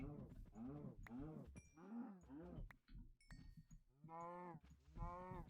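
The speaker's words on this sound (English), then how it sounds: "I see a cow. I see 3 cows, 4 cows." Several Minecraft cows moo in quick succession, overlapping drawn-out lowing calls with sharp clicking game sounds between them, loud and close with no talking.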